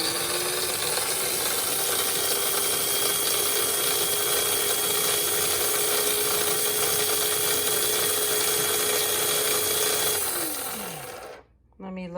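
A small electric spice grinder grinds za'atar seeds with a loud, steady whirring roar and rattle that holds unbroken for about ten seconds, then winds down in pitch as the motor stops.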